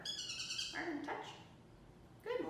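A bird at a zoo gives a few faint hooting and chirping calls, separated by quiet gaps, with one louder call at the end.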